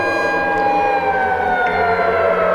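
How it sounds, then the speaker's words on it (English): Emergency sirens wail continuously at six in the morning, a steady layered tone with slow pitch glides, loud and sustained throughout with no talking. "Why are the sirens going off at 6 in the morning?"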